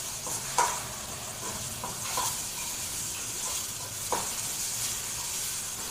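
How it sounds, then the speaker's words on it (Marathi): Onion sautés in a pan with a steady hissing sizzle and occasional stirring scrapes and taps, close and moderately loud throughout. "आता थोडंसं प्रमाणातच आपल्याला कांदा परतायचा आहे"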